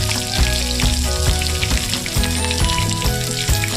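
Crushed garlic and slit green chillies spit and sizzle hard in a generous amount of hot oil, loud and close, a dense continuous crackle with quick pops throughout.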